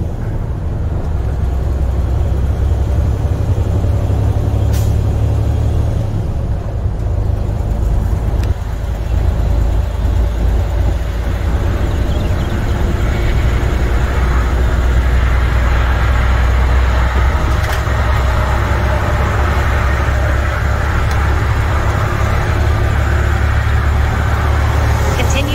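Steady low engine drone and road noise from inside a semi truck cab as it merges onto the highway, a constant heavy rumble filling the whole stretch with faint voices mixed in.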